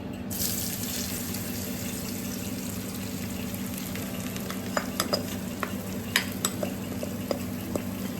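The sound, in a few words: aubergine frying in leftover oil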